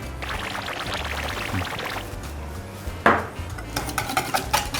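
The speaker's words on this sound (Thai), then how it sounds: "ใส่ครีมลงไปครับ แล้วก็ใส่นมลงไปนะครับ" Cream and milk poured into a metal pan while making a mille-feuille, a steady liquid stream followed by a clank of utensils and small clattering taps against the pan, close and fairly loud.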